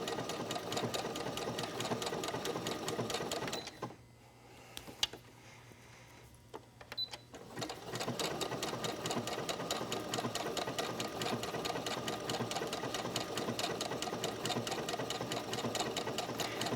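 A sewing machine runs fast and steadily, making a rhythmic mechanical chatter as it sews a blanket stitch on a wool appliqué. It pauses briefly partway through, then picks up the same pace again.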